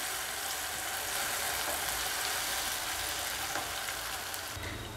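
Tomatoes sautéing over high flame in a pan for paneer bhurji, a steady close sizzle and fry hiss running unbroken throughout, with no talking.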